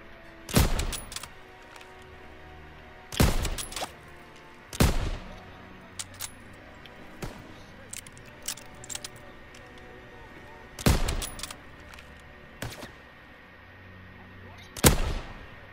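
Gunfire in the World War II shooter Call of Duty: WWII: about seven sharp, loud shots at irregular intervals with a few fainter cracks between them, over a steady low background hum.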